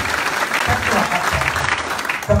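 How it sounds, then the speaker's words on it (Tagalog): Audience applause at an AIM Global business talk, steady dense clapping across the clip with speech mixed in over it. "Palakpak yun lahat, palakpak."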